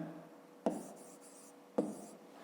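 Two brief, crisp scratches of writing on paper or a board during a fifth-grade maths exercise, separated by about a second, quiet against a faint hum.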